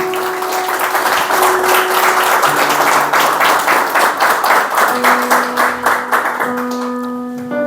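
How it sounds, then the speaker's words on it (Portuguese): A church congregation applauds steadily for several seconds during a communion service, a dense wash of clapping over sustained keyboard chords that shift beneath it. "Se você pode, aplauda ao Senhor por essa palavra."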